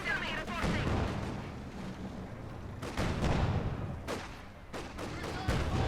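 Machine gun fire and artillery in the Company of Heroes 2 strategy game, a dense continuous battle din with repeated sharp bursts of gunfire throughout.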